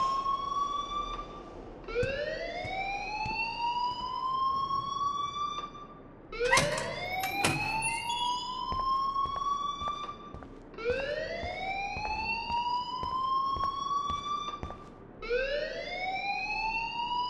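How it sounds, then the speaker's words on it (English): A school alarm in the video game Life Is Strange wails in repeated rising sweeps, loud and steady, cycling every few seconds with a brief clattering burst partway through. "please turn off that alarm since that's your job"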